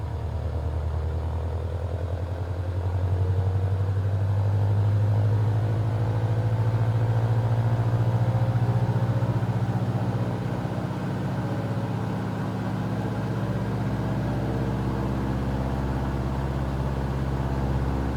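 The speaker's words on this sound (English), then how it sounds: "For the run up then we'll come up to 2000 RPM." Light aircraft piston engine in a closed-canopy cockpit spooling up to a steady 2000 RPM run-up, a loud, continuous low droning rumble with a rising pitch early on, then holding level throughout.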